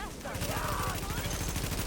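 Rapid video game gunfire in a combat mission, a loud continuous burst of automatic shots in an even rhythm lasting throughout.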